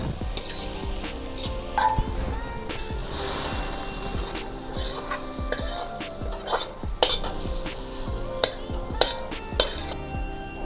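A spoon scrapes and stirs through sautéing pav bhaji ingredients in a hot pan, with steady sizzling underneath and irregular metallic clinks and knocks against the pan. Close and continuous, with no voices.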